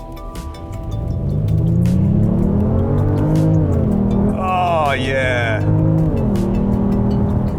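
A 2021 Genesis GV80 with its 3.5-litre twin-turbo engine accelerates hard in sport mode, the engine note climbing through gears with audible shift dips, loud and steady from inside the cabin; a voice briefly speaks.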